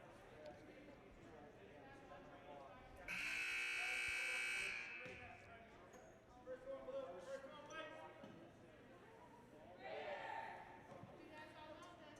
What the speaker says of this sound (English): There's the buzzer, the first buzzer.